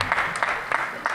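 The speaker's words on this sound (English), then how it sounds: "So let's all give her a round of applause." Applause at a school Operation Smile summit meeting at Lawrence High School, a short burst of clapping with slight pulses, fairly close and alone.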